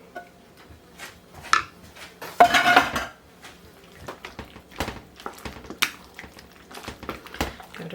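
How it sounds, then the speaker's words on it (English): Saucy chicken pasta is stirred in a casserole dish, giving close, irregular scrapes and clinks of a utensil against the dish with a louder burst of mixing midway, no voices. "Give it a really good mix."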